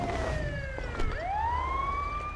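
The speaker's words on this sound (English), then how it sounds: "Ambulance is on scene right now." Ambulance siren in the video game GTA 5 arriving on scene, a loud wailing tone that sweeps down and then climbs again, near and continuous over a low engine rumble.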